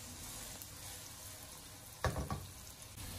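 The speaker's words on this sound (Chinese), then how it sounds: "将豆腐翻面了之后，继续的用小火去煎，不停的转动锅子" Tofu pan-fries over low heat while the pan is swirled, giving a steady, soft sizzle with a short clatter of cookware just past the two-second mark.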